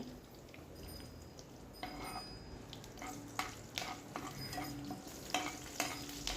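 Mustard seeds, garlic and green chillies frying in oil for lemon pickle, a quiet steady sizzle broken by several stirring scrapes and light crackles, close and without speech.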